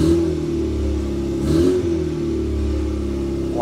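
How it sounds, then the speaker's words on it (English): A Škoda 105 with a freshly rebuilt carburetor runs close by at a rough idle, its engine rising in one brief rev before settling back to a steady low rumble. "So the carb rebuild must have been a success because it can start even though the battery was flat."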